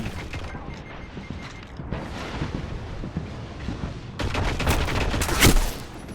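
Gunfire from the video game Destiny during a zone-capture match, a steady stream of rapid shots that grows louder and denser toward the end, with sharp cracking bursts over a busy battle background.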